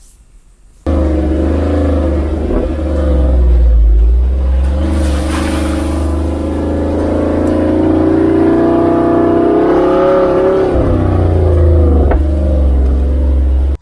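A stock Jeep Wrangler Unlimited Rubicon 392 on 37-inch tires crawls a trail, its engine holding a steady, loud low drone that swells slightly in the middle before easing back, with brief bumps near the end.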